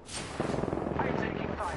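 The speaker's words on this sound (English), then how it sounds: "Opening fire on the enemy." Gunfire in Apex Legends while playing as Gibraltar, a rapid stream of fairly faint, rattling shots under a busy game mix.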